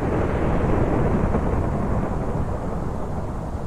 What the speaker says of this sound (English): The thunder is obviously when someone dies.